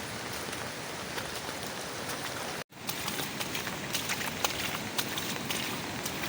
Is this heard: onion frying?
no